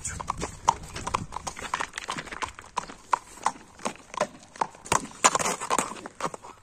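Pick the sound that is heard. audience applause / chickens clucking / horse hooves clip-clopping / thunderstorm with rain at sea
horse hooves clip-clopping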